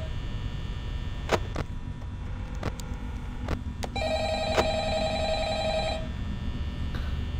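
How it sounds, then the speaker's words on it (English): A phone rings in the horror game Five Nights at Freddy's, a steady electronic ring lasting about two seconds that follows several sharp clicks over a low background hum. "It takes so long to answer the phone,"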